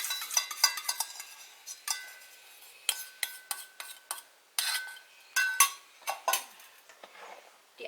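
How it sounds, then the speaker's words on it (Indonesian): Melted margarine being folded into sponge cake batter with a utensil in a bowl, making irregular clinks and scrapes in quick bursts with short pauses, close and fairly quiet, with no voices. "Kita mengaduk sampai dasar loyang, kita aduk lagi sampai ke atas."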